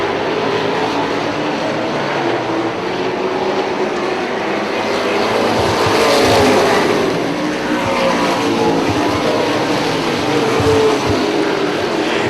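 Stock cars in a sportsman class roar through a dirt track corner, a loud continuous engine drone that swells and fades as the pack sweeps past, with no voices.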